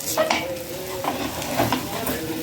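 A green moong and rice dosa sizzles on a tawa while a wooden spatula scrapes and stirs in repeated strokes, close and steady, with no talking.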